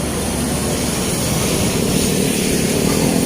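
A jet ski roars steadily across Manila Bay, a loud continuous engine drone with broadband spray and wind noise, no voices.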